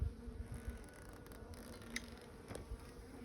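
A single bee buzzes faintly on a beehive frame during a hive inspection, a thin steady hum over low rustling, with no talking.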